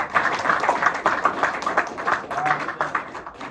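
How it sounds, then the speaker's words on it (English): Light applause from a small group, with scattered claps in an uneven rhythm that rise and fall for a few seconds. "Another round of applause."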